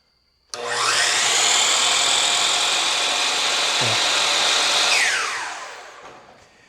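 A Hercules 12-inch miter saw runs on a portable power station: an abrupt loud whine starts, holds steady for several seconds, then winds down as the motor coasts to a stop.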